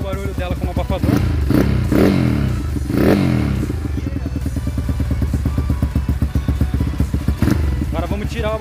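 Close, loud idle of a Honda Titan 150 motorcycle with its muffler fitted, a steady single-cylinder putter broken by a few throttle blips that swell and fall back.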